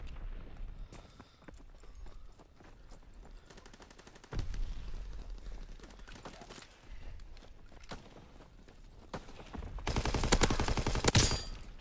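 Gunfire from a WW2 shooter video game comes in scattered single shots and short bursts at moderate distance, and a loud, dense volley closes the passage.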